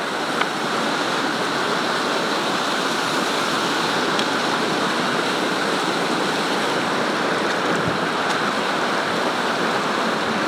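Waterfall at Bout du Monde: a steady, loud, close rush of falling water, a continuous broadband roar that holds unchanged throughout with no talking.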